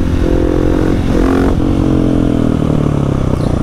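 KTM 701 motorcycle engine held at steady high revs during a rear-wheel wheelie, with a brief dip in pitch around a gear change to third; loud, close and continuous throughout.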